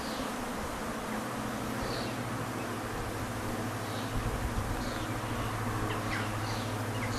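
Buckfast honey bees buzz at an open hive in a dense, steady drone. The hum sits under a constant wash of outdoor noise, with no talking.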